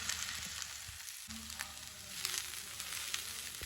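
Chopped purple cabbage and onion sauté in a hot pan, giving a steady close sizzle with faint crackles and a brief stir partway through, no voices.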